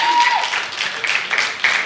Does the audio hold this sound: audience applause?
yes